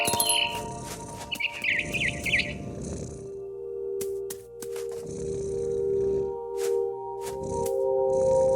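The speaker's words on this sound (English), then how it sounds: "Then I heard chirping outside my window. It was a barn swallow going back to her nest." A barn swallow chirps in the video game What Remains of Edith Finch, with short bright tweets at the start over a low, steady ambient hum, followed by soft thuds and rustling, and no speech.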